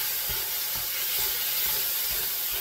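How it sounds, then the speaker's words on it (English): Minced garlic is stirred into taco meat browning in a hot pan. A steady, bright sizzle fills the scene, with a few soft scraping stirs close up. "And I'm going to get that stirred up."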